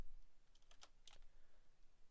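Quick, quiet burst of clicking on a computer keyboard, a handful of sharp keystrokes clustered in the middle, close and isolated with no talking.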